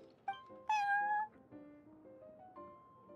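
A cat meows in Genshin Impact, giving several clear, close meows of varying pitch and length. One drawn-out call stands out, followed by shorter chirping mews.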